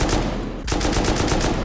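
Rapid bursts of gunfire from a shotgun trap in the Rust survival game, a dense loud volley that pauses briefly and then resumes in quick repeated blasts.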